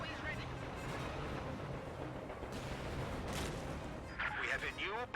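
Fragmentation bombs burst in a Company of Heroes 2 match, a dense rumble of blasts and gunfire running under constant commentary, with a sharper cluster of explosions near the end.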